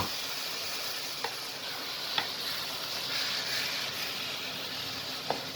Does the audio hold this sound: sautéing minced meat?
yes